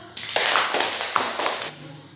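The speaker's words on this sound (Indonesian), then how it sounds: "Kasih tepuk tangan dulu." Elementary school pupils give a short round of applause in the classroom, a quick, close burst of many hands clapping that fades after about two seconds.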